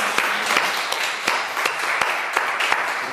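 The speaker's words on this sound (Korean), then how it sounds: "우리 말씀 주신 주님 앞에 감사의 박수 드리겠습니다" A church congregation claps in thanks during a Sunday worship service, a brisk burst of scattered hand claps from many people filling the room for a few seconds, loud and fairly close, with no talk over it.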